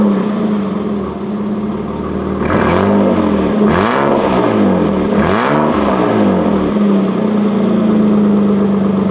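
Nissan R33 Skyline GTS with the non-turbo RB20 engine, idling loud and close and then blipped through three sharp revs, each rising and falling before it drops back to idle.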